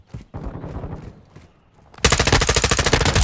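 Gunfire in a Call of Duty MW2 beta Domination match on Valderas Museum: scattered shots and mechanical clatter, then a loud sustained burst of rapid automatic fire.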